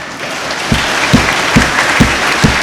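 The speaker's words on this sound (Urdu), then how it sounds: "اس پہ میں بھی تالیاں بجا رہا ہوں" An audience at an interactive session in the Punjab Assembly setting claps. The applause is close and fairly loud, with several sharp, evenly spaced claps standing out over a general clapping wash.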